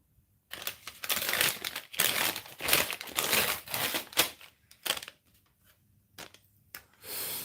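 Crinkly paper-covered plastic pie bag being handled and pulled open, a run of loud, close rustling and crackling bursts with short pauses between.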